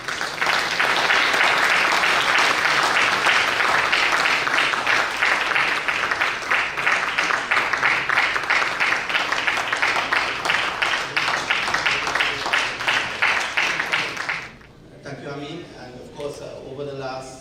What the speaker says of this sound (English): we should really give these 2 gentlemen a tremendous round of applause